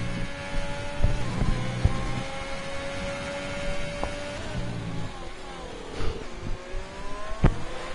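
Formula 2 race car engine at the Hungary circuit in a racing video game, a steady high-pitched drone with shifting pitch as it runs a lap, joined by a few sharp clicks and bumps, with no talking.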